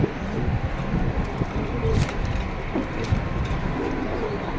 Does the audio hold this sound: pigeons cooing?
yes